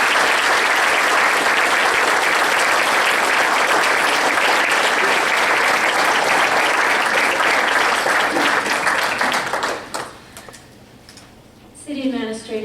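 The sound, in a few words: audience applause at candidates forum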